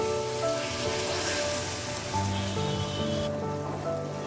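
Boiled chickpeas in a hot pan of spiced masala with a little water poured in, producing a dense, even sizzle like rain on a surface, close and continuous throughout, with a faint tonal background.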